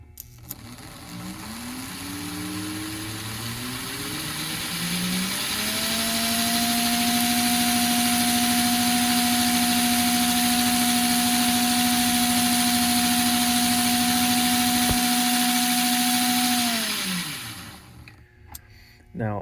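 A restored 1948/1950 #350 model engine runs at slow speed with all wheels connected, a steady electric motor hum and whine that rises as it starts, holds level and close for about ten seconds, then winds down and stops.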